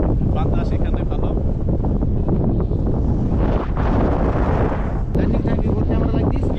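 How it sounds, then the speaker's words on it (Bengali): Strong wind roars high in the air during a paragliding flight over Nepal, a loud, continuous broadband rush filling the whole stretch with brief dips, while people speak faintly beneath it. "শোনা যাবে না, অনেক উপরে বাতাস"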